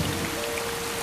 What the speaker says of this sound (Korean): 소나기예요